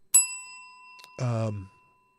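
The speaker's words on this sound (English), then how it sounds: "It could be just the bell. Here's buzzword bell." A single bright bell ding rings out sharply and decays with a long clean ring, used as a buzzword sound effect, followed by a brief spoken word afterward.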